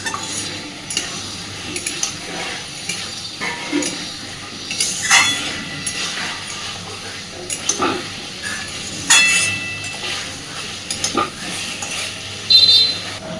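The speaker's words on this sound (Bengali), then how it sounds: "আমি ডিমগুলোকেও আলুর সাথে একটু মিনিট দুই এখানে নাড়াচাড়া করে নেব" Boiled eggs and potatoes are stirred in a pan for an egg curry, with a spoon scraping and clinking against the metal at irregular intervals over a soft, steady sizzle.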